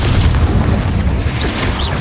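In the video game Hogwarts Legacy, a Confringo fire spell bursts in a loud, deep, rumbling explosion that fills the whole short moment at close range.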